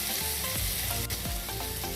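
Onions fry in a pan with a steady, close sizzle and occasional soft crackles, heard alone without any talk.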